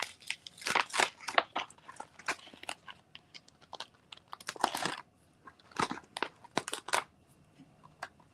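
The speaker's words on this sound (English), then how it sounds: "he is chewing this thing up" A dog gnaws and crunches on a hard object nearby, giving repeated bursts of loud chewing and crackling with short pauses between them.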